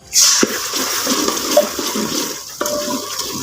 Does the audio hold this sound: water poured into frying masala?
yes